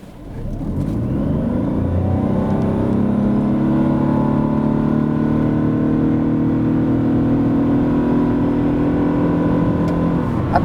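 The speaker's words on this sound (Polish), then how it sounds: "Pod kątem dynamiki tak samochód przyspiesza od 0 do setki" Lexus LBX 1.5 hybrid crossover accelerating hard from standstill to 100 km/h, a steady droning engine note rising in pitch and holding loud and close for about ten seconds, with no talking.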